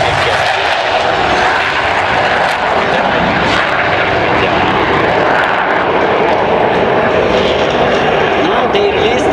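Turkish Stars jet aircraft roll for takeoff after releasing their brakes, a loud, steady engine roar filling the whole stretch with a broad rushing noise.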